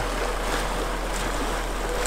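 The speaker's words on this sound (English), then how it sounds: "This is some very fast moving water." Fast-moving mountain stream in Banff National Park, a steady, dense rush of water filling the whole clip with constant broadband hiss and no pauses.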